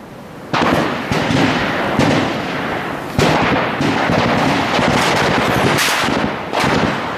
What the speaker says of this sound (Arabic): اجوا عليك طلقة قناصة